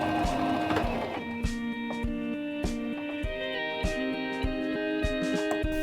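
Singer mechanical sewing machine stitching a line of fabric: a steady mechanical hum with a rapid, regular ticking of the needle mechanism, close and clear, with no voices.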